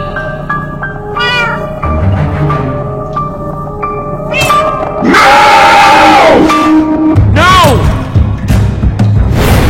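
Cat meowing repeatedly in loud, drawn-out, wavering cries among clatter and thumps, with people talking and shouting over it.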